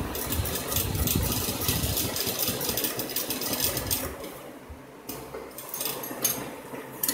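A domestic sewing machine runs in quick, continuous bursts, stitching slowly along the curved edge of fabric for a palazzo pant bottom, with a whirring motor and mechanical clatter and a short pause near the end.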